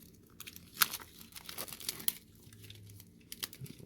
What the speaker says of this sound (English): rip that paper off real quick